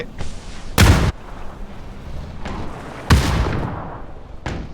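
Two sharp, loud grenade explosions in the video game PUBG boom close by a few seconds apart, with a steady rumble and a few fainter pops between them.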